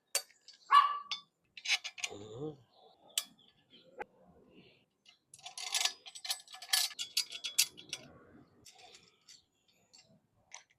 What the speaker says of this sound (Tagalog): Ingay ng mga aso ko.